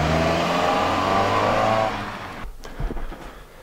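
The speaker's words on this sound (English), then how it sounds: "Cold start in the Ricemobile." A Toyota car engine running after a cold start, loud and close, holding a steady revved drone for about two seconds before dropping off, followed by a few quieter knocks and shifting sounds.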